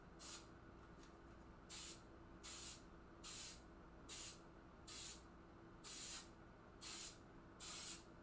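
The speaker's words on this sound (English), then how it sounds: "So I'm going to spray this out." An aerosol can sprays onto a standard sheet of paper laid on a mat, giving nine short, evenly spaced hissing bursts separated by quiet pauses, all fairly soft and close.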